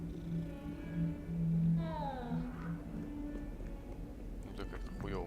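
A cat in the Hogwarts Legacy video game purring softly under game music, with a short meow-like sweep partway through and a few light taps near the end.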